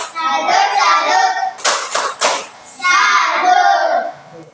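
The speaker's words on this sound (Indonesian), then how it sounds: "tepuk salut buat Gibran" A school class claps together in a patterned salute, with bursts of rhythmic group clapping, a few sharp synchronized claps in the middle, and children chanting along.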